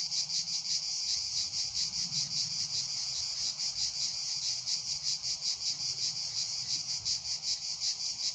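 A cicada sings in a loud, continuous, buzzing pulse, rapid and steady with a slight regular throb, alone and close, with no voices.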